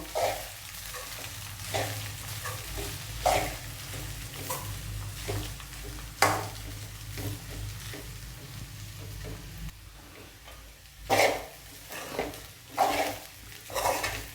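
Kande pohe, the flattened rice with onion, stirred in a frying pan with a soft sizzle underneath and repeated scraping and clinking of a spatula against metal, irregular and close, with louder scrapes near the end.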